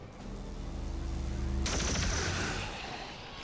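Pistol gunfire in the SpaceCOM video game: a sharp, loud shot bursts in midway, followed by a sustained crackling, echoing tail that slowly fades.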